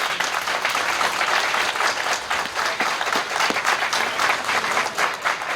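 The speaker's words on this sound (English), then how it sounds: "So please give them a big round of applause again." A crowd at a ceremony honoring Vietnam-era veterans at the Buffalo Naval & Military Park applauds, a dense, steady, fairly loud wash of many hands clapping throughout, with no speech over it.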